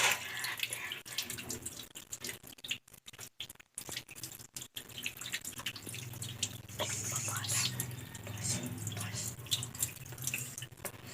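Hands washed under a running tap, with a continuous splash of water into a sink, fluctuating as the hands move through the stream, with a few brief drops in flow and faint voice in the background.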